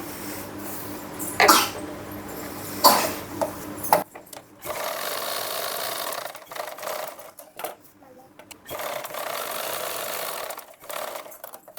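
A sewing machine runs steadily for a few seconds, stitching the shoulder seam of a lined blouse, then stops while a voice talks over quieter handling noises.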